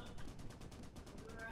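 Rapid repeated gunshots from a video game rattle out in a steady automatic stream, fairly quiet and continuous, with a voice faintly mixed in.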